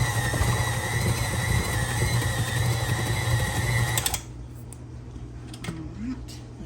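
An electric mixer's beaters whir steadily through cookie dough as flour is added, a loud continuous buzz for about four seconds before cutting off, followed by quieter handling noises.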